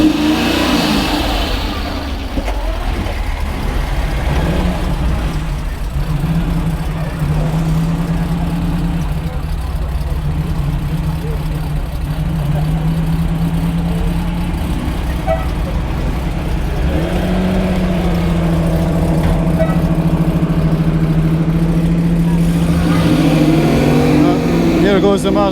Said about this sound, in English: we're about to see a couple of these nice cars drive off, the Spada and the Maserati